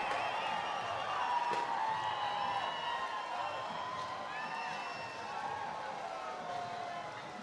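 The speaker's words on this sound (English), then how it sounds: "The crowd really getting into it, getting into sport and culture in a big way" A lively crowd at a village sports and culture festival, a steady wash of cheering and chatter that stays loud and continuous throughout, with voices mingled in the din.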